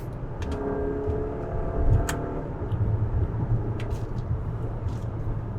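A Mazda CX-5 petrol engine revs hard in second gear on an open road. It gives a loud, continuous drone with tonal harmonics that rise and hold over road rumble.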